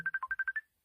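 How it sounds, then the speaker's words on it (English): A phone ringtone plays a quick run of seven even electronic beeps, all on one steady pitch except a lower third beep. It is clear and close, with no talk over it, and it stops after under a second. "The thing is still ringing, but I don't know where it's ringing from."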